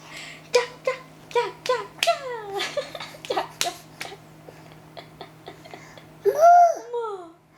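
The small hands of a 10-month-old baby are patted together by an adult in a quick series of light, close claps, mixed with the baby's babbling and soft vocal sounds, and then a few sparser pats.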